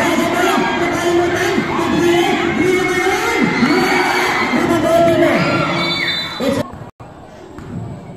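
A crowd roars and cheers at a barangay basketball final between Purok Mangga and Purok Baybay, loud and continuous with shouts and whoops, then cutting off abruptly near the end.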